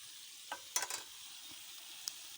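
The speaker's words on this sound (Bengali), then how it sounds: "শুটকিটা আমি একটু কষিয়ে নিয়েছি" Dried fish (shutki) sautéing in a pan, a faint continuous sizzle with a few sharp scraping stirs near the start and one more near the end.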